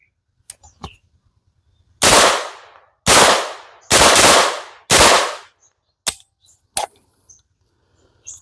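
A DAVINCI DG-9 blaster fires several loud, sharp shots in an irregular series, each followed by a brief ring-out, with fainter mechanical clicks before and after in an otherwise quiet setting.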